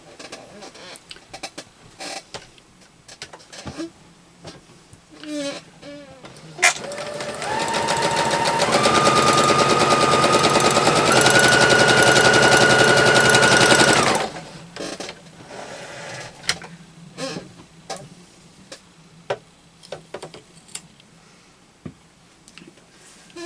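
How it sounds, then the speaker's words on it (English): A sewing machine stitches quilt pieces made of 5.5-inch squares, running in one loud, steady burst of about seven seconds that speeds up slightly, with quieter handling clicks before and after. "I am just going to sew that down."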